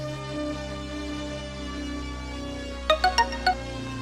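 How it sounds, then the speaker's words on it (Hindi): A phone ringtone plays a steady melodic tone, then a quick run of four bright beeping notes near the end, loud and clear with no talking. "ये तो सोनी का फोन है।"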